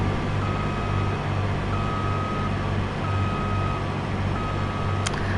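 Repeated electronic beeping from a farm vehicle in Farming Simulator 22 during a bean harvest, a steady warning-tone pattern over a constant low engine drone, with no talking.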